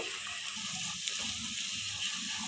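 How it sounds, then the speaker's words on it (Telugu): Ginger garlic paste frying with onions in a pan for aloo biryani, a steady close sizzle with faint crackles throughout and no talking. "ఉల్లిపాయలు వేగిన తర్వాత 1/2 స్పూన్ అల్లం వెల్లుల్లి పేస్ట్ వేస్తున్నాను"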